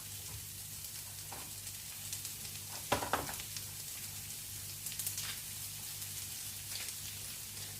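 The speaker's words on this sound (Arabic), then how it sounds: "هي دابا الزبده بدات كتذوب" Butter melting and sizzling in a pan, a soft continuous crackle with a few sharper pops and a low steady hum beneath, quiet and without voices.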